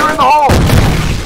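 A loud, deep boom from a grenade blast in the F.E.A.R. combat game follows a short voice and leaves a rumbling tail that lasts for most of a second.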